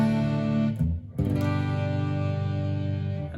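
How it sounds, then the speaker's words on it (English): Distorted electric guitar through a distortion stomp effect sustains a thick, buzzy chord, briefly drops and changes around one second, then rings out again steadily and loud, with no talking. "As you can hear, I do have a bit of distortion as well."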